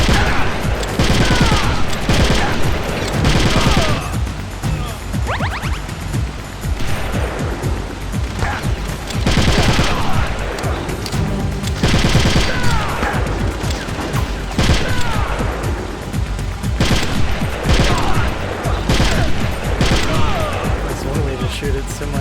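Relentless, loud gunfire and explosions fill a Metal Gear Solid: The Twin Snakes battle against genome soldiers, with overlapping shots and crashes continuing throughout alongside game audio.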